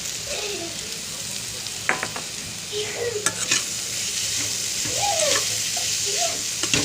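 Paneer stirred into fried masala in a pan for paneer bhurji: soft scraping strokes and a low sizzle, close but moderate, with a few sharper clinks and no speech.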